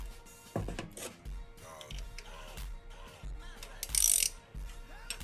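A ratchet tightening a roller rocker nut on a turbo Mustang engine gives quick bursts of close clicking with metallic taps and small rattles, fairly quiet and uneven.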